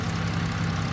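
A BMW N52 engine in a car idles steadily, a close, low, even rumble with a constant pulse.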